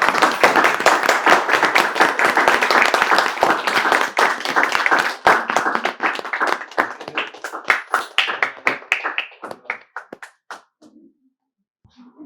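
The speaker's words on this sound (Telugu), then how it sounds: "క్లాప్స్." An audience claps for staff being honoured at an ashram ceremony, a dense burst of applause that thins into scattered hand claps and fades to silence.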